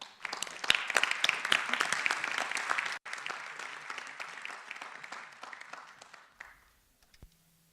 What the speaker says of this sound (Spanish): os invito a aplaudir a Hashim Sarkis.